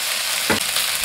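Crucian carp fish bones frying in a pan over low heat give a steady, close broadband sizzle, with a brief stirring scrape in the middle of the short burst.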